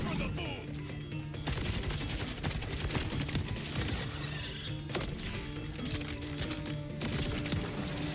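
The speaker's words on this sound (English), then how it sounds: "I guess my grenade blows up into a bunch of other grenades?" Chained grenade blasts in the shooter game Borderlands 4, a dense, loud barrage of bursts and crackling impacts mixed with gunfire that runs continuously with a few sharper peaks.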